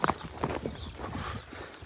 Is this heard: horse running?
yes